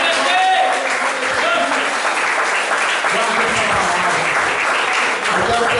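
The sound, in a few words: church congregation applause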